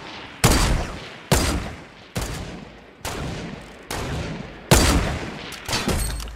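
Sniper rifle shots in a video game, seven loud sharp cracks at roughly one-second intervals, each with a short echoing decay.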